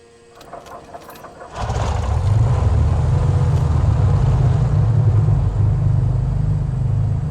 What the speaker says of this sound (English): Okay, good start on the engine.